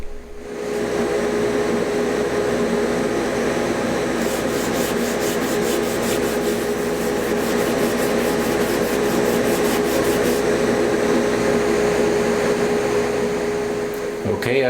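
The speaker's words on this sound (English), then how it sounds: "It was a little harder to sand than I thought." Steady, continuous electric sanding on wooden doily frames with router burn marks, a dense unbroken rasp running loud and close throughout with a constant hum beneath.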